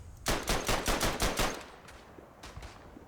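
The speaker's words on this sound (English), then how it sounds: "my machine gun certainly won't be as effective as it should be." A burst of machine gun fire in a World War I trench shooter set at Verdun, about eight rapid loud shots in quick rhythm, followed by a few fainter distant shots with no talking.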